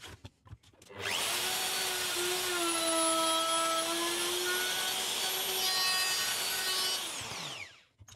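A power saw cutting dados in wooden boards, starting after a few brief knocks, then a loud steady whining cut lasting about six seconds before winding down, close by and without talk.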